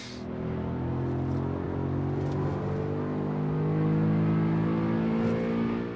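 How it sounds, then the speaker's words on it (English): A race car lapping the Nordschleife in a sim racing game, its engine droning steadily with layered harmonic tones, rising slightly as it accelerates, moderately loud with no one talking. "as we go for our first lap around the Nordschleifer"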